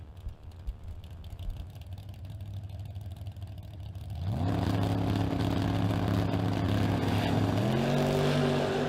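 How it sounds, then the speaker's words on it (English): A second-generation 1979 Chevrolet Camaro and a third-generation Camaro launch side by side at a drag strip, a low engine rumble building into two loud, steady rising engine notes as the cars accelerate hard down the track. "As we got a pair of Camaros coming at you."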